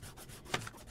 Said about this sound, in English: I'm going to grab my eraser,